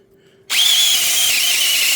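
A compact drill, the 201 HBC Compact, bores into pear wood: near-silence, then at half a second the motor snaps on into a loud, steady high whine that holds to the end.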